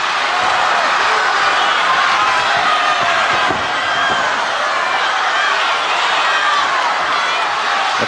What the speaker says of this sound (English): The crowd really going mad, standing up and screaming at the ref to make him leave go of that rope.